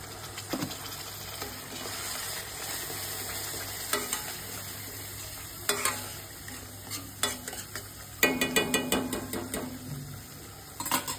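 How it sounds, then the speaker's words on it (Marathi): Chicken drumstick gravy masala fries in a pan at home, with a steady low sizzle under intermittent scraping and clinking of a spoon stirring against the pot, the strokes growing busier toward the end. "ग्रेव्ही ना छान त्याची फ्राय करून घेणार आहे 2 मिनिटासाठी"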